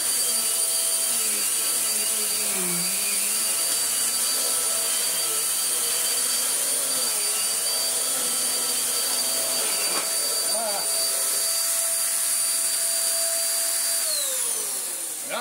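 A vacuum cleaner runs continuously over a rug, a loud steady motor whine with a constant high tone, shifting slightly as it moves, then winding down near the end; a voice speaks faintly under it.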